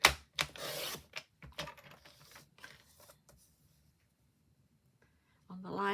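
A well-used paper trimmer slices along a line through a printed image for a glass coaster, giving a few close, quick scraping strokes that fade into quiet before a brief louder noise at the end.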